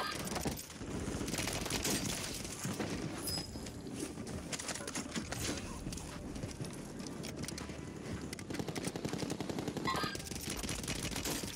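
Automatic weapon fire from a shooter video game rattles in a loud, nearly continuous stream of rapid bursts lasting over ten seconds, with no voices on top.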